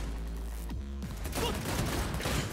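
Gunfire in the Cyberpunk 2077 video game on Xbox Series, a dense burst of shots over a steady low game soundtrack hum, continuous and fairly loud throughout.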